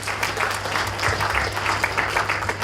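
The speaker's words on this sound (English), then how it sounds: "I'm sure that deserves a round of applause." Audience applause at a graduation ceremony in Oyo State, a steady wash of many hands clapping throughout, moderately loud with a low hum underneath.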